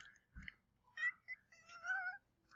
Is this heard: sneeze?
no